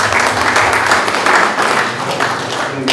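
Close, loud applause from a political club audience saluting soldiers, a dense rapid patter of clapping hands swelling and dipping over a few seconds.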